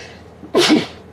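A single sharp sneeze right up close, preceded by a faint catch of breath, then quiet.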